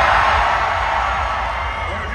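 A studio audience cheers, whoops and applauds loudly at a live show, a steady broad roar that slowly fades slightly across the moment.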